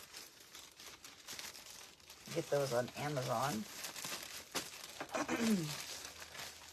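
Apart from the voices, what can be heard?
plastic bags crinkling while packing an item for shipping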